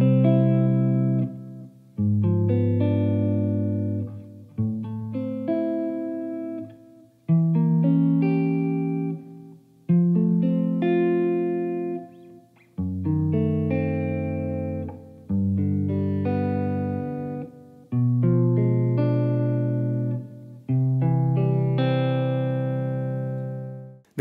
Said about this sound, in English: here is how this chord progression sounds with the addition of the diminished 7th chord